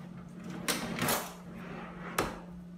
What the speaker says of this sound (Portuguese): Vou colocar a gaveta na guia ali.